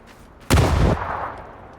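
A single sharp grenade blast in PUBG erupts suddenly, then rumbles and fades over about a second, standing alone against quiet background.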